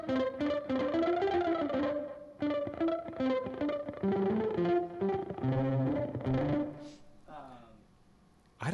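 Electric guitar played through a shimmer reverb pedal set to fast trailing, chords ringing with bright, smeared tails that wash over each phrase before fading near the end.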